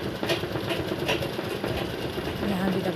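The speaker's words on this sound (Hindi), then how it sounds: "इस तरीके से हम सिलाई मार लेंगे।" A sewing machine stitches cloth in a steady, fast mechanical chatter that runs close and constant. Someone talks over it.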